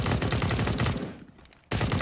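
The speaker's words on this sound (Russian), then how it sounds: "Как же Харон еще и стрельбой забайтил на себя внимание" Gunfire in the video game Counter-Strike: rapid automatic bursts of shots, a steady stream for over a second, then a brief lull before the firing resumes just as loud.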